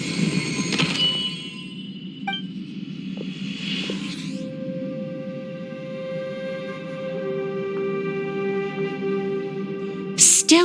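A door sliding open in the video game Genshin Impact: a soft whooshing slide followed by long, sustained resonant tones under low ambient hum, ending with a brief bright chime, no voices.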